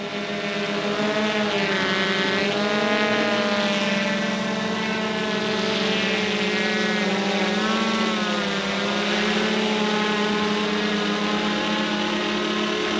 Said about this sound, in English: But definitely love flying the drone.